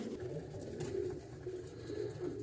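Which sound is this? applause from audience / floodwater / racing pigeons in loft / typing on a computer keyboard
racing pigeons in loft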